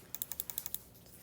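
Rapid light clicks of calculator buttons being pressed, about eight quick crisp taps in under a second, faint and close.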